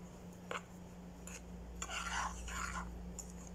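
A spoon scrapes and stirs a dry mixture of cornstarch and sugar in a bowl for pudding, a soft, close, gritty rustle in short strokes over a low steady hum.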